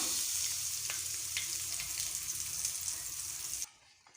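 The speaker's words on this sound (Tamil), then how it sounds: "இப்போ வந்து கடுகு பொறிஞ்சிருச்சு நம்ம கருவேப்பிலை சேர்த்துக்கலாம்" Mustard seeds and curry leaves fry in hot oil for a garlic chutney, giving a close, steady, hissing sizzle with faint pops and scrapes that cuts off abruptly near the end.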